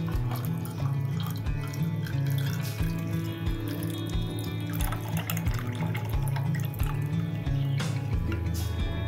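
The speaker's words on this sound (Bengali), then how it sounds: "গ্লাসে প্রথমে বরফ নেব এবং আমাদের যে আমরা জুস বানিয়েছিলাম সেটাকে আমরা প্রথমে ছাঁকা নিতে ভালো করে ছেঁকে নেব" Homemade green apple juice strained and poured over ice into a glass, heard as a continuous liquid trickle and splash over a steady low hum, close and moderately quiet.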